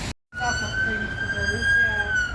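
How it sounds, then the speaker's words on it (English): Ambulance siren sounding in traffic in Melton as the vehicle tries to get through: a loud, close, steady wailing tone that holds through almost the whole stretch after a brief silent gap, with engine and street noise underneath. "So another ambulance here in Melton trying to get through traffic."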